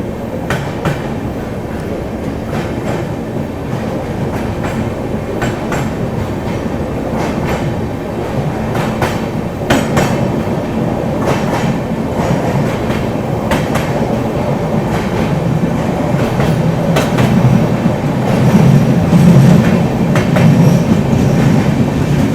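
The Shri Shakti AC Superfast Express runs from Katra toward New Delhi on a foggy night, a loud, steady rumble of wheels and rattling carriages with recurring clickety-clack beats throughout.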